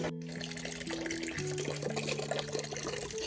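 Hot water from a thermal spring in Baden-Baden flows steadily close by as a continuous splashing trickle, with no voices over it.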